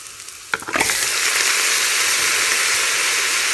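Mutton hitting hot oil with softened onions and cumin in a pot erupts into a loud, steady sizzle and frying hiss that swells after a brief clatter and then holds unbroken, with no voices.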